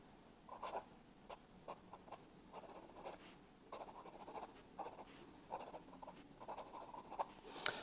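Sailor King of Pen fountain pen with a medium nib writing on paper, faint close-up scratchy strokes in short irregular bursts with pauses between words, quiet with no talking.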